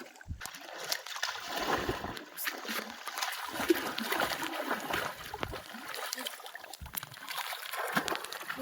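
Someone wades into a salty river in the Sundarbans to wash, making continuous irregular splashing and sloshing of water close by, with soft trickles between stronger splashes.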